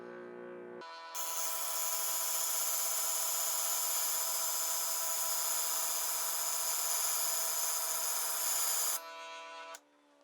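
A metal bolt for a camera bracket pressed against a power sander, a steady loud grinding whine held for about eight seconds after a brief motor start, then spinning down.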